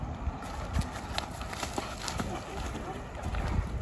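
A horse moving at a quick, slightly unruly pace on a trip to a marigold flower harvest, hooves clip-clopping in an uneven rhythm close by, with voices talking over the steps.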